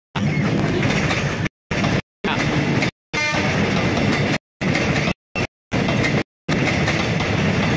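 A passenger feeder train on the Padalarang–Cimahi line in Indonesia rolls along the rails with a steady, loud rumble and rhythmic clatter, broken by a few brief silent cuts.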